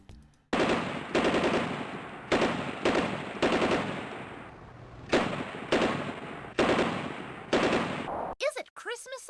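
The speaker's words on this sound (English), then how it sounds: "Why do the Busy Billy devs love gunshot noises?" Cartoonish gunshot sound effects from the Busy Billy multimedia storybook fire in loud repeated bursts of rapid automatic shots, about seven volleys separated by short gaps, ending with a brief warbling electronic tone.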